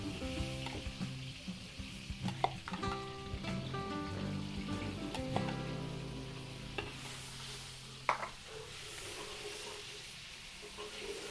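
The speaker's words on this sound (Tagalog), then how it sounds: "Igisa po tayo ng bawang." Garlic sautéing in a pan hisses with a continuous sizzle, interrupted by scraping stirs and a few sharp utensil knocks, with background voices faint beneath.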